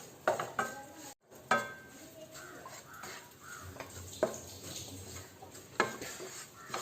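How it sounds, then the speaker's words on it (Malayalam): Rice flour roasts in a pan while a utensil stirs it, giving soft scraping strokes and a few light clinks against the pan. Crows caw loudly nearby, and the kitchen is otherwise quiet. "നല്ല വെണ്ണം ഒന്ന് ഇളക്കി കൊടുക്കണം."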